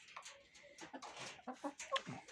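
Chickens cluck quietly in short, scattered bursts, with soft calls rising and falling close by.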